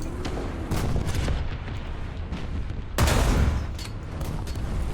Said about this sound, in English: Okay, we're getting shot at.